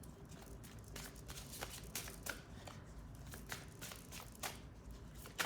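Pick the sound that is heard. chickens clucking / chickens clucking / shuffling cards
shuffling cards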